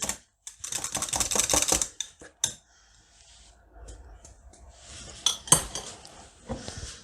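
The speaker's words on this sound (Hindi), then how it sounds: "अच्छी तरीके से मिक्स करते हैं।" Chickpea salad for chana chaat tossed in a bowl with a utensil, giving a burst of close, clattering clinks and scrapes, a quieter lull, then a few more sharp taps against the bowl.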